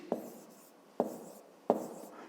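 Three sharp strokes of a pen or chalk writing numbers by hand, each a quick scratch that trails off, spaced about half a second apart, near and fairly quiet.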